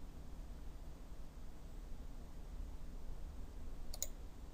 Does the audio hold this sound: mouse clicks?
yes